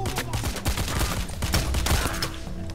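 Dense, rapid gunfire from a firefight in the heist video game Payday: The Heist, with overlapping shots cracking continuously and loudly throughout.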